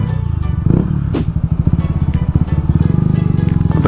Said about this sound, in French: C'est quoi comme moto ça?